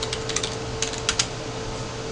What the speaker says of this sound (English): I'll go ahead and type in a password.